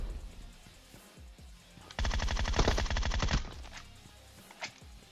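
Groza rifle in PUBG Mobile fires one rapid automatic burst of about a second and a half, loud and close, between quieter in-game ambience and scattered distant shots.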